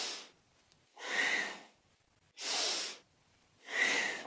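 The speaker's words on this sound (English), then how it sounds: "Breathing nice and full and deep with the movement." Deep, full breaths during a kundalini yoga kriya, three long drawn breaths roughly a second apiece, each one a broad airy rush heard close and alone, separated by quiet pauses.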